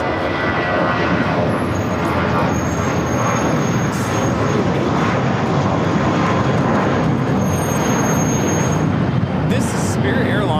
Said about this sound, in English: This is Spirit Airlines 2018 taking off to Chicago on the A320.